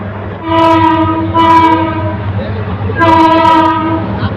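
A Kishoreganj Express locomotive sounds its horn loudly and nearby in three long blasts while moving to couple at the other end of the train, its engine rumbling low underneath.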